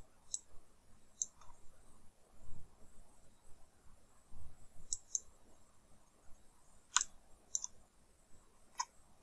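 Sharp computer mouse clicks while working in 3ds Max, arriving singly and in quick pairs at irregular intervals over a quiet background with a soft low rumble.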